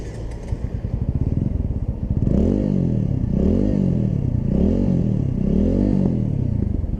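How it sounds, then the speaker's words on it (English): A TVS Apache 200 4V motorcycle is revved close up, its exhaust note rising and falling in several repeated blips after a short idle, loud and steady with no talking. "let's just go ahead and hear the exhaust note"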